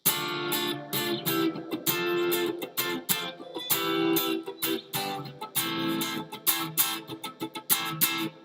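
Distorted electric guitar plays a chord progression with sharp, choppy stabs, sustained strums giving way to short staccato hits near the end.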